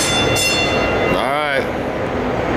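St. Louis Metro underground train running through a downtown tunnel, a steady loud rumble with a brief rising whine, talk heard over it.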